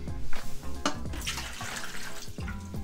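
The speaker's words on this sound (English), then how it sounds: "just take the top layer of the water off and hopefully get the surface scum out and just dump it in the bucket below." Surface water skimmed from a 20 gallon saltwater aquarium is dumped into a bucket below, making a loud, close, sloshing pour with gurgles and splashes that runs for most of the three seconds.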